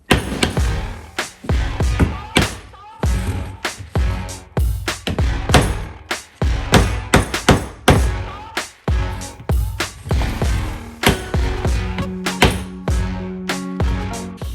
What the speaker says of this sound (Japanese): この出っ張ってる部分を叩いて平らにしたいと思います